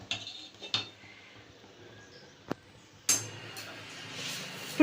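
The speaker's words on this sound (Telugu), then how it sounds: "ఇప్పుడు ఇవి కొబ్బరి పాలు తెరులుతున్నాయి కాబట్టి దీన్ని ఒకసారి కలుపుకుందాం." Coconut milk being stirred in a cooking pot: a few sharp clinks and scrapes of a metal spoon against the pot, spaced irregularly with quiet gaps and a faint bubbling hiss.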